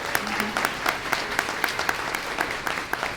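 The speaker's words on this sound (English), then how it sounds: "Let's give Montgomery's parents a round of applause as well." Audience applause at a school board of education meeting, a steady crowd of hands clapping with crisp individual claps standing out, sustained and moderately loud for the whole stretch.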